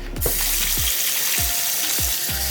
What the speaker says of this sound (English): I'm going to start by washing the meat